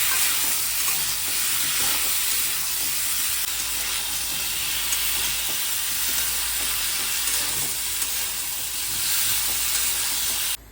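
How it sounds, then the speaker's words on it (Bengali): Fried potatoes and spice paste stir-fried in a pan, a steady loud sizzle and hiss with faint stirring scrapes throughout, no voices. "ভালো করে কষিয়ে জল দিয়ে দেবো।"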